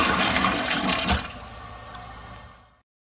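A toilet flushes in one loud, close rush of water, with a surge a little past the first second, then drains away and fades to silence at the end.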